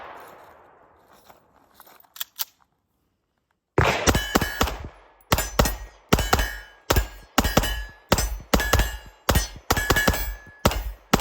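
A Viking Firearms 1911DS/2011 4.6 pistol with a compensated, ported barrel is fired at a range. After faint handling sounds, loud, sharp shots ring out close by in a rapid, regular series of double taps.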